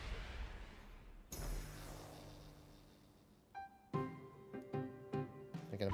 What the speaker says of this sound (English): Shoot off some fireworks